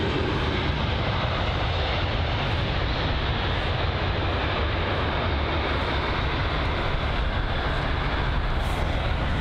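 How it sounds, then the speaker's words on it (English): An Airbus A320 airliner at London Heathrow produces a loud, constant broadband engine roar with steady rushing noise, unbroken throughout and without voices. "I think that's the A320."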